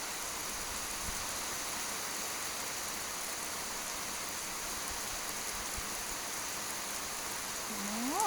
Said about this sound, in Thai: น่ะเบิ่งนะทุกคน ฝนตกแห้งทุกคน